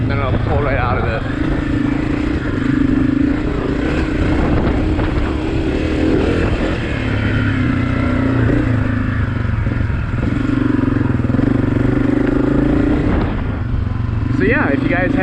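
A 2023 Honda CRF250F dirt bike engine lugs in third gear then pulls out, a continuous loud throbbing drone from on board with wind rumble, its pitch rising and dipping as the throttle changes, with a voice talking over it.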